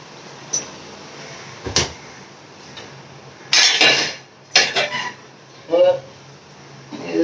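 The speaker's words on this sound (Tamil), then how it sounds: "இது தோசைக்கல் வச்சாச்சு" A heavy dosa griddle (tava) set down on a stove in a home kitchen, with several sharp metallic clanks and scrapes spread over a few seconds amid other utensil clatter.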